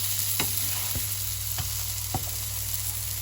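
Burger patties hissing in a frying pan as they are flipped, a steady sizzle broken by four sharp clacks of the spatula turning them, close up and without talk.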